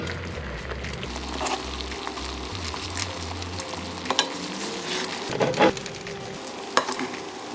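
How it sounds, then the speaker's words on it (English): Heavy cream sauce for chicken marsala simmering and sizzling in a pan, a steady soft bubbling hiss with occasional stirring scrapes and clinks, close and moderately quiet. "Simmer until it thickens."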